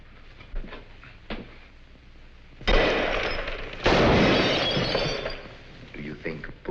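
Gunfire in a film scene: two loud, sharp blasts with a crashing, shattering tail, heard over low background sound.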